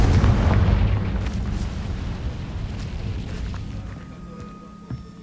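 A Confringo spell explodes in the video game Hogwarts Legacy, a loud booming blast that rumbles and fades over several seconds, ending with a small pop.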